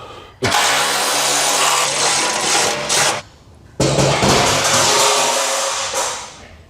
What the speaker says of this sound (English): Now we got to take the bolts out on this side, and this cover plate will come off.